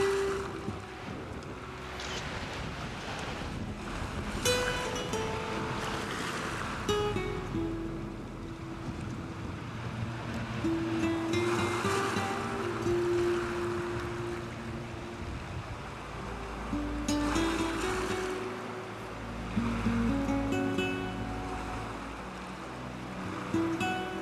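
Waves wash onto a Normandy beach lined with cliffs and towering rock arches, surging and receding in slow swells under steady wind noise.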